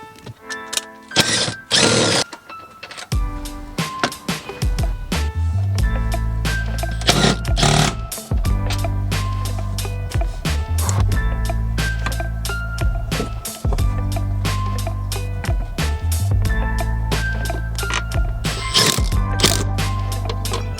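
A ratchet socket wrench turns bolts while Toyota Tacoma seat jackers are installed, its rapid clicking coming in repeated bursts over a low hum, with a few sharper knocks near the start.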